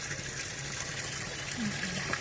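Water pouring into a garden goldfish pond during cleaning, a constant splashing gush close by, with a voice briefly heard over it.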